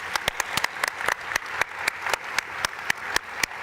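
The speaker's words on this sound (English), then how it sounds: "we'd like to give you all a round of applause" A small audience at a public dialogue event gives a round of applause, with sparse, distinct individual claps ringing out in an irregular rhythm, fairly faint and alone.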